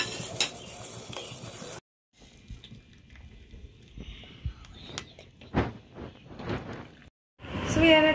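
A spoon stirs sugar into coriander tea in a cup, making light clinks and scrapes in short bursts with gaps of silence between them, and no voices.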